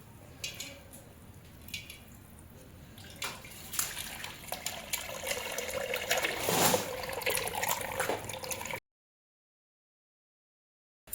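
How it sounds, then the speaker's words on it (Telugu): Water poured into a clay pot while making home-cooked castor oil, a continuous close trickling and splashing that swells louder toward the end before cutting off, with no speech. "నీళ్ళు పోసుకున్నప్పుడు నిండా నీళ్ళు పోసుకొని"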